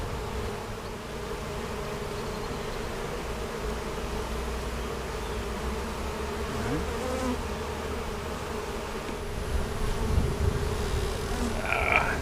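Honeybee swarm inside a barn, a steady low insect buzz that stays level throughout and rises slightly toward the end, with no talking.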